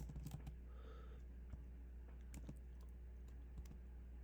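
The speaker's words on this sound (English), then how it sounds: "we're going to go type animator, animator, I can't type tonight, dot" Quiet, close keyboard typing as code is entered, irregular clusters of key taps with short pauses over a constant low hum.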